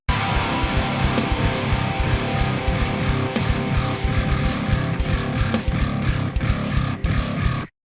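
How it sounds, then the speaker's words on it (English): A dense, distorted metal riff is played in drop C tuning on bass guitar, dark and heavy, pounding steadily for several seconds before stopping abruptly, with no voices. "what if we reuse the first riff from the song just on bass"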